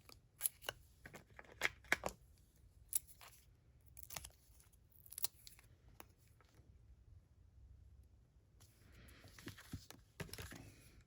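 Scissors trimming paper for a handmade birthday card, a series of quiet, sharp snips and paper rustles in irregular bursts, faint and close with no talking.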